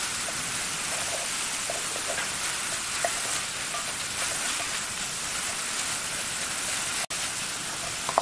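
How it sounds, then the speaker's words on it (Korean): Cold cooked rice with bacon is stir-fried quickly in a pan for a mushroom cream risotto, giving a steady, dense sizzle with scraping stirs throughout and no voices. "이렇게 빠르게 볶아주세요"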